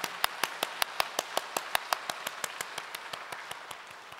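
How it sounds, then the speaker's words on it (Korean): A church congregation claps in unison in thanks, sharp rhythmic claps landing about five times a second at a steady tempo and gradually softening over the few seconds. "사랑하시는 주님께 우리 감사의 박수를 먼저 올려드릴까요?"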